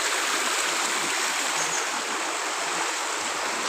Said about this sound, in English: This is small river